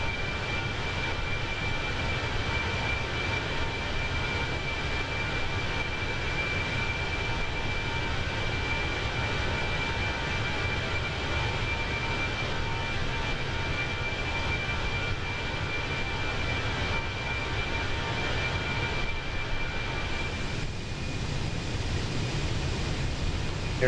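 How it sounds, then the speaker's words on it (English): Fenix A320 airliner engines in Microsoft Flight Simulator 2024 give a steady, loud broadband roar with a faint high whine running through it, continuous and unchanging throughout, with no talking. "Airplane sounds so good, doesn't it?"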